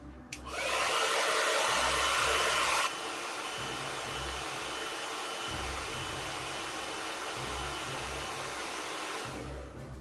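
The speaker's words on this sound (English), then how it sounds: "Give it a good old blast of heat." A heat gun used on a custom Star Wars Black Series Han Solo (Endor) action figure gives a steady, close, loud blowing roar for about ten seconds, harsher and stronger for the first few seconds, with no talking.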